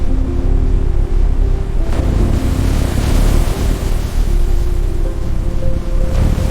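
Loud, continuous ocean waves and gusting wind rush around a fishing boat at sea in rough conditions, with a low engine hum underneath and no voices.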